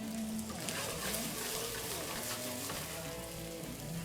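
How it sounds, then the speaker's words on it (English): Onions and jalapenos sizzle steadily in a hot pan, with a dense, continuous crackle and hiss that stays close and fairly loud throughout, with no voices. "When your pan is nice and hot, go ahead and drop in your onions and jalapenos."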